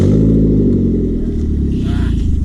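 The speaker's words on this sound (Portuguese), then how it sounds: "deixa eu dar uma arrancada aqui esse carro" A Ford Focus with a loud, modified exhaust pulls away hard, its deep rumbling engine note building steadily and close by, with people talking inside the car over it.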